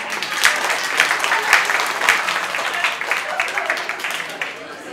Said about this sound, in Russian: Поаплодируйте, у кого есть такие друзья.